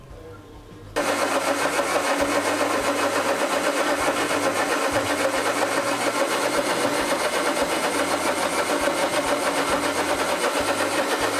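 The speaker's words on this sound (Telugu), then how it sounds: "ఇప్పుడు మిక్సీ వేసుకుందాం." A mixer grinder whirs into a loud, steady grind of ginger, green chilli, cumin and coriander, starting after a brief quiet moment and running continuously with a rhythmic churning undertone.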